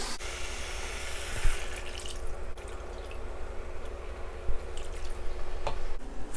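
Water pours and splashes continuously into a pot of radish and onions for tuna kimchi stew, a close, steady liquid rush with a few small knocks and clinks.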